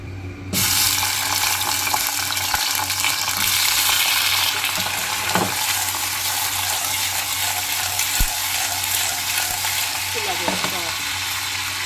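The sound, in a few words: ivy gourd frying in oil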